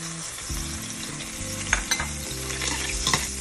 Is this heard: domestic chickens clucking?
no